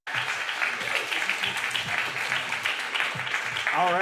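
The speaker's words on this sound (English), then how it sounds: "Just give another round of applause to Soy" An audience at a live event applauds, with steady, full clapping that fills the whole stretch. A voice speaks briefly at the end.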